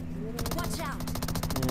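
Rapid automatic gunfire in the mobile game BGMI rattles in a quick burst of close, loud shots, with a voice talking briefly underneath.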